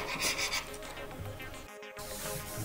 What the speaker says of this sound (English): Get the excess off with a chisel.